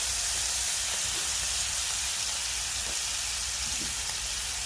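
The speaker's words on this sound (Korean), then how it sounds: "그리고 죽순 넣고 같이 볶아줍니다" Bamboo shoots stir-fried in a pan with soy sauce and cheongju give off a steady, even sizzle that stays constant throughout, with faint clinks now and then and no talking.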